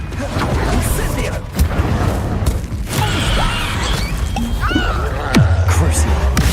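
Incendio fire spell cast in the video game Hogwarts Legacy, a dense, loud burst of booming, crackling combat effects amid layered game sounds, with spoken voices from the game playing over it.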